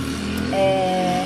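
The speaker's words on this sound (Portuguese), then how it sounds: "moto passando, né?" A motorcycle passes by outdoors, its engine drone rising in pitch and loudness midway through, heard faintly behind an indoor setting.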